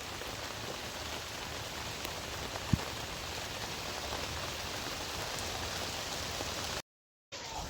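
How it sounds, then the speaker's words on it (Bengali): Steady rain falling on a vegetable garden, an even, close hiss of drops throughout, with one brief sharp tap and a short dropout near the end. "বৃষ্টি নামছে তো, ভালো বৃষ্টি নেমে গেছে গা।"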